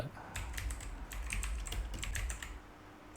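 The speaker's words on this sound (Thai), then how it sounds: "เราก็พิมพ์เลย j u p i t e r" Keys clatter on a computer keyboard in a quick, uneven burst of close clicks as a command is typed, with no voice over them.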